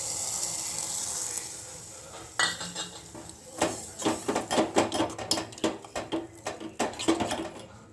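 Gram flour mixture going into a pot of sambar with softened tomatoes, heard as a run of close metallic clinks and stirring scrapes against the pot over a soft simmering hiss, with no voices.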